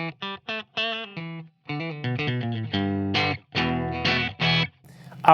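Peavey Axcelerator electric guitar on its bridge pickup with crunch distortion, a run of short picked notes and chords in separate bursts, fairly loud and close with no talking.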